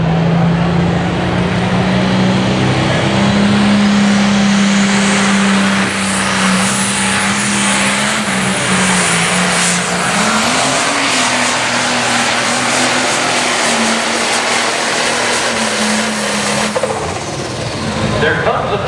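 A light pro stock pulling tractor runs at sustained full throttle during a tractor pull in Canton, Ohio, a loud continuous engine roar with a shifting pitch, and an announcer talks over it.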